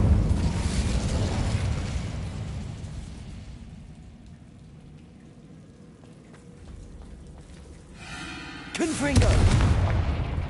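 Incendio fire spell cast in Hogwarts Legacy, a rumbling whoosh of flame that swells, fades into a low crackle, then surges again with a heavy burst near the end.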